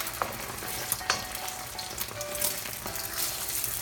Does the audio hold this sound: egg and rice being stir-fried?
yes